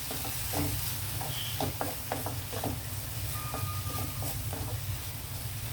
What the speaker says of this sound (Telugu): ఇది ఒకసారి మిక్స్ చేద్దామండి, కలిపేద్దాం